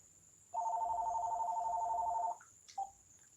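A telephone rings once in a quiet room: a clean electronic tone held for nearly two seconds, then a short chirp and a brief, fainter beep.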